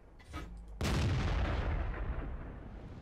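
A tank cannon fires in the World of Tanks game during a Tiger-versus-Tiger engagement, one heavy close boom after a faint lead-in, trailing into a long rumbling decay.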